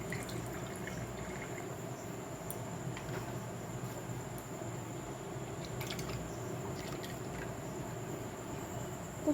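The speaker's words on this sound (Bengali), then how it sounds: "তো আমি সাদা তেলটা এভাবে ঢেলে দিচ্ছি।" White oil pours into a wok in a steady, soft, continuous trickle with a faint hiss, holding an even level throughout with small clinks now and then.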